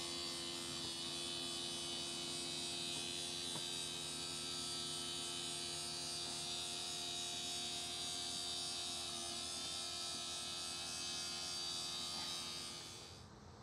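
The electric motor of an RV slide-out awning on a 2015 Heartland Wilderness hums and whines steadily for several seconds, a constant close buzz with faint clicks, trailing off at the end.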